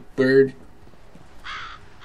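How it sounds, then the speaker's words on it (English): A crow in the video game F.E.A.R. gives one loud, harsh caw over quiet ambience, followed by a second, fainter call. "Stupid bird."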